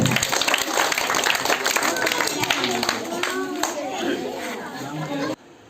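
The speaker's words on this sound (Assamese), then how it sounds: "নগাঁও দল নগাঁও সকলোৱে হাত চাপৰি লগাই দিয়ক" An audience applauding a second-placed Nagaon team at an Independence Day event, dense continuous clapping mixed with crowd chatter and children's voices, ending abruptly.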